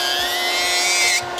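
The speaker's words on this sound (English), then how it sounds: "I'm using the mini toy nail drill from E-Nail Couture. I'm going to put it on 15." A mini toy nail drill from E-Nail Couture, set to speed 15 for removing gel polish, whines steadily and close up, its high pitch gliding slightly upward before cutting off near the end.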